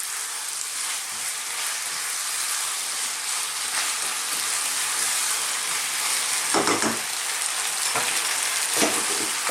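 Chili chicken fries in a hot pan with a steady, bright sizzle and crackle throughout, and a few soft clunks near the end as the pieces are flipped and stirred.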